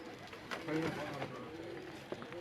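A pigeon hen coos softly several times in a low, rounded rhythm, close by and quiet, with someone talking over it.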